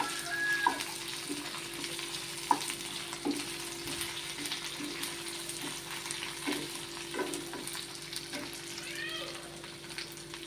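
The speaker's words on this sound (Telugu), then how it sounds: "ఇప్పుడే నేను నూనెలో వేగుతున్నాయి కదా మునక్కాయలు" Drumsticks fry in hot oil in a pan, a quiet, continuous bubbling sizzle with occasional clinks and light stirring, close by, with a steady hum underneath.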